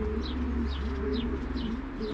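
Racing pigeons coo at a loft during the opening of the flying season, with a low repeated cooing drone and soft rhythmic calls about twice a second, close and steady.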